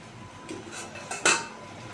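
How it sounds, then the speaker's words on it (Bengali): A metal lid goes onto a cooking pot of vetki fish-bone chorchori, a few light clanks and scrapes followed by a sharp clink as it settles, close by, with no talking. "ঢাকা দিয়ে দিই হলো"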